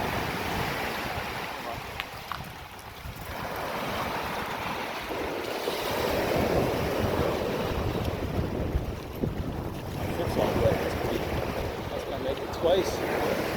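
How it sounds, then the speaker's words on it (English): Ocean waves roll in and crash along the beach at Sanibel Island, Florida, where the surf washes up over the sand around a bicycle, as a steady broadband wash that swells midway and carries wind noise across the microphone. "was almost a 3-foot wave that just crashed. It's coming right up here."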